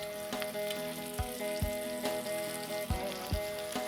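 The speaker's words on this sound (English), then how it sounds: "Fry this till they become nice and golden brown on both sides." Arbi (taro) pieces frying in hot oil in a pan, a steady close sizzle and crackle with a few soft clinks, no voices.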